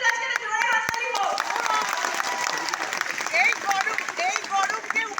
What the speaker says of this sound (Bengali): তাই জন্য এই মানুষটাকে আজকে জোরে হাততালি হোক।